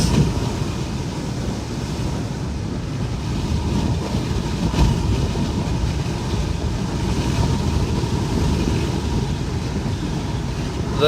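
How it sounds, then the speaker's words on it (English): Continuous roaring wind from Hurricane Milton buffets the microphone on a Gulf beach throughout, a heavy low rumble with steady gusty surges and no voices. "Big gusts."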